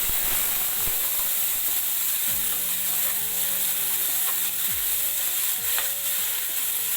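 A ground paste of garlic, onion, ginger and cumin hits about two spoons of hot oil in a kadhai for paneer masala, sizzling loudly and continuously up close, with the scrape and clink of stirring throughout.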